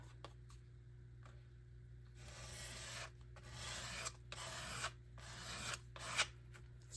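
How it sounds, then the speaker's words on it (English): Paint is scraped down across a junk journal board in a run of dry rasping strokes, some short and others drawn out, close and fairly quiet over a low steady hum, with no talking. "scraping the paint down."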